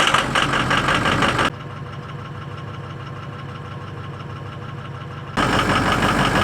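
A 21-year-old engine in freezing below-zero cold turns over and settles into a steady, rough idle, a loud cranking burst at the start and again near the end framing a lower, even running drone.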